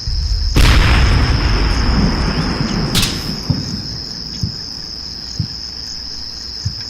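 A 105 howitzer fires shells at a sniper's building in Combat Mission: Shock Force, two sharp booms with a rumbling tail and a few softer distant thuds after, over a constant high cricket-like insect chirr.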